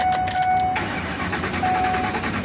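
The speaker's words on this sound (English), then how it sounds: "We're going to fire it up." Ford 5.4 Triton truck V8 cranking and firing up nearby, a short burst of starter and engine noise that settles into a steady running roar.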